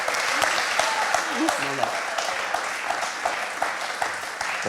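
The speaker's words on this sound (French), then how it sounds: "Nicole, follement acclamée." A studio audience on a French TV quiz show final applauds a contestant, with sustained, fairly close clapping and a voice talking over it.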